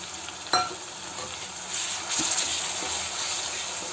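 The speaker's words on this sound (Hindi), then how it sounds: "अब ये प्याज हो चुके हैं ज़्यादा नहीं हुए हैं थोड़े ट्रांसपेरेंट आप देख सकते हो चुके हैं तो अब मैं इसमें डाल दूँगी टमाटर" Tomatoes go into a pan of frying onions, turned translucent, as paneer curry is made; a soft sizzle runs steadily beneath a few clicks of a stirring spoon, close and moderate in level.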